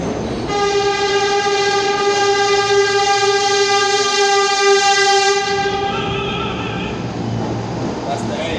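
A New York subway A train passes at Chambers Street station, its horn sounding a long, loud chord over the rumble and clatter of the cars before cutting off as the train rolls on.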